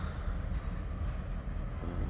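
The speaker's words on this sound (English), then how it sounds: "we have a train again" A long freight train led by engine 400 passes on the railway, a steady broadband rumble with continuous low-end roar that holds close and loud throughout.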